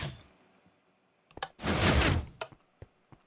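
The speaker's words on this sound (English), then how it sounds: "So I gotta use our door again." A door in Minecraft opening and closing: scattered soft clicks and thuds, with one longer, louder burst of sound in the middle, heard fairly close with no talking.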